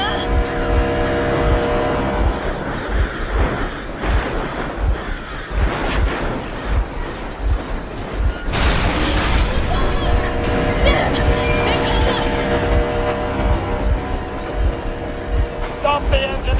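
A vehicle engine runs steadily in Metro Exodus, a continuous low rumble with rhythmic pulsing throughout, heard under talk and other game sounds.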